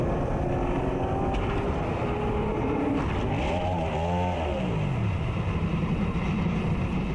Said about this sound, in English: Actually heard the throttle where Bob Shack was trying